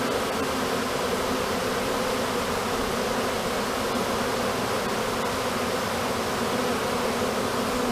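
A swarm of honeybees buzzing in and around an open box, a thick, continuous drone of many wings that stays loud and unbroken from start to finish, with no talking.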